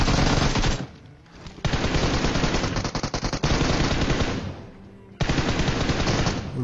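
Gunfire in the video game PUBG Mobile: rapid automatic bursts in several loud runs separated by brief pauses, dense and continuous, with no voices over it.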